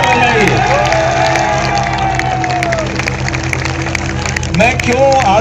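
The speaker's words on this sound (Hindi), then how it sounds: "तालियां जरूर बजाइए अपने लिए और जोरदार बजाइए।" An audience applauds and cheers loudly, with claps, shouts and whoops swelling into a dense, continuous crowd roar that holds steady for several seconds and lifts again near the end.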